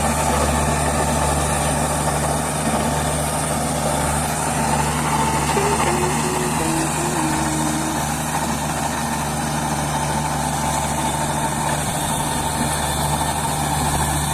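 A heavy tractor engine runs steadily and continuously at close range in a farm field, a constant low rumble with a droning hum that never lets up.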